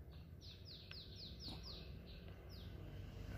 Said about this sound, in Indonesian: Nah, itu burungnya. Langsung bunyi.